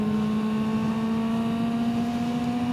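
A small 250cc motorcycle engine screaming at very high RPM, a loud sustained high-pitched whine held steady and slowly rising, close and without speech.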